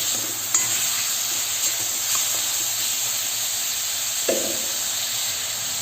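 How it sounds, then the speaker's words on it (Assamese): Chicken pieces frying in a little oil in a wok, a loud steady hiss and sizzle up close, broken by a few clanks of stirring. "এনেকৈ 2 মিনিটমান ভাজি ল'ম।"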